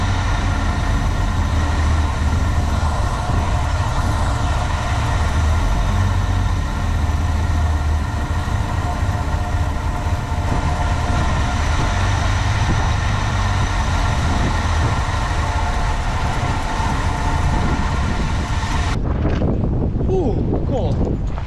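An old carbureted engine idles very low outdoors in freezing winter cold, a steady deep rumble mixed with heavy wind buffeting the microphone that continues throughout before the noise drops away at the end.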